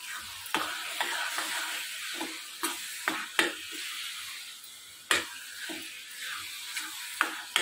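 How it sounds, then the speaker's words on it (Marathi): Mango pulp filling for modak being sautéed in a pan, heard as a quiet sizzle broken by sharp scraping strokes of a spoon stirring at irregular intervals. "आता मस्त असं हे आपल्याला परतून घ्यायचं आहे."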